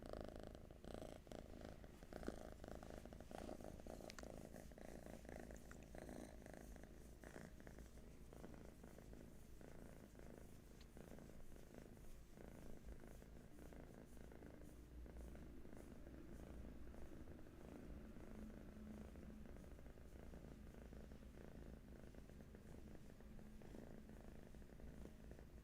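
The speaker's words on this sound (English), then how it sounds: "some lovely, relaxing kitten purrs" A kitten purrs steadily and softly throughout, a continuous low rumbling hum that stays close and even, with no talking over it.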